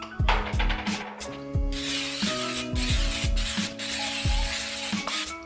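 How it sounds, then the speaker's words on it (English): Olive oil cooking spray hisses onto the paddle of a rotisserie kitchen appliance in a series of short, close bursts, with a mechanical hum running underneath. "I'm actually gonna be using a little bit of olive oil spray,"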